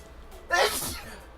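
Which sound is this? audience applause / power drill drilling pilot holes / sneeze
sneeze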